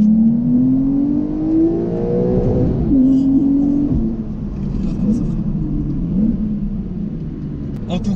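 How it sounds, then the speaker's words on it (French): A Porsche 911 (992 generation) accelerates hard using overboost, its engine note climbing steadily through a rev range, shifting, then rumbling on at lower pitch, heard close and loud from inside the car. "Et on va essayer l'overboost qui avait été introduit"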